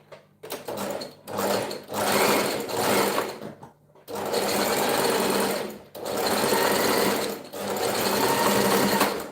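Sewing machine running a zigzag stitch, with loud close bursts of rapid mechanical whirring broken by short pauses, first in several quick spurts and then in longer steady runs.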